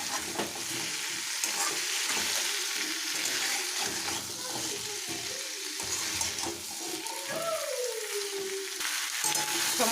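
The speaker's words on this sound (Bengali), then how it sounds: "সমস্ত মশলার সঙ্গে ডাঁটাগুলোকে কিন্তু আমি আরও 2-3 মিনিট খুব ভালো করে কষে নেব" Drumstick pieces frying in a pan with mustard paste, green chilli paste and turmeric for Bengali curry, a continuous close sizzle with intermittent stirring scrapes, a brief voice murmuring faintly underneath.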